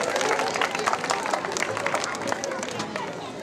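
Audience at a Ram Lila gathering in Kumaon claps steadily throughout, a dense even patter with crowd murmur underneath.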